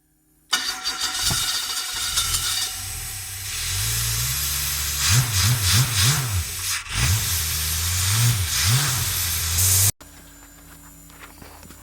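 A small engine, likely needing a little prime before it fires, starts up and runs close by with a loud mid-pitched drone, surging and sputtering unevenly in pulses before cutting off abruptly near the end.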